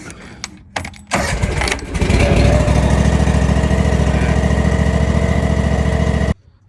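A choked John Deere X370 lawn tractor engine cranks briefly after a few clunks, catches and settles into a loud, steady, close idle, then cuts off abruptly.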